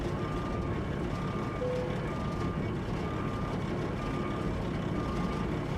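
In the video game American Truck Simulator, a truck reverses over gravel. Evenly spaced reversing beeps repeat over a constant heavy engine rumble, with no talking.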